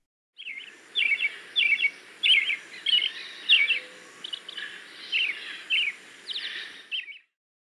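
A thrush sings a run of short, varied, fluty and warbled phrases, each separated by a brief gap, clear and fairly near against quiet surroundings.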